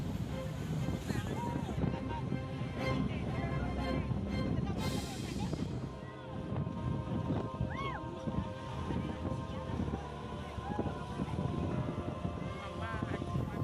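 Strong wind and waves pound boats behind Lakasi market in Parepare, a loud continuous roar with gusty buffeting and surf, while a voice talks over it.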